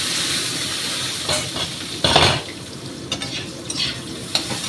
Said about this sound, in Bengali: একটু ভাজা হচ্ছে অল্প